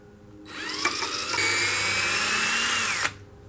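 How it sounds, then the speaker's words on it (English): A power drill whines steadily for a few seconds, its pitch rising and dropping slightly as it bores into the wood of a rocking chair, then stops abruptly. "Now I'm just going to put a drill hole in between the bar here"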